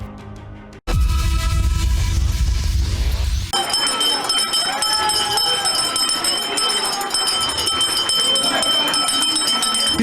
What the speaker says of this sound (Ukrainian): звуки першого дзвоника